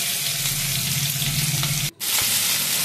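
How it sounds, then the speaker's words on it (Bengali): Crab frying in mustard oil with cumin seeds, a loud, close, continuous sizzle with a low hum beneath, broken by a brief drop near the end before the frying resumes. "গোটা জিরা ফোড়ন দিয়ে এবার আমি একটু নেড়ে চেড়ে কাঁকড়াটা দিয়ে দেবো"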